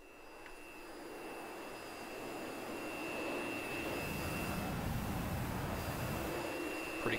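Jet engine of an SU-27 fighter in the DCS flight simulator, a steady broad roar with a high whine that slowly swells louder, heard alone without speech.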